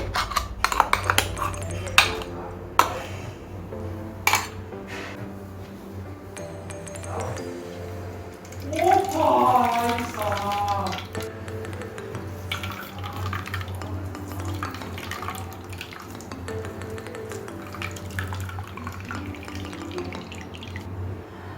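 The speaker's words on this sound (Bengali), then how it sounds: "খুব ভালোভাবে চেপে পেঁয়াজের পেস্ট থেকে রস বার করে নিয়েছি" Onion paste squeezed hard through a clean cloth into a bowl, with juice dripping and wet squelching alongside clinks of kitchen utensils, moderately close.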